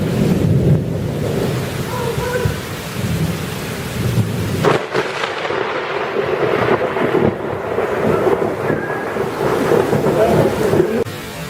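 Lightning strikes with a sharp crack and rolling thunder during a heavy rainstorm, the downpour hissing steadily throughout, loud and close, with further rumbles building toward the end.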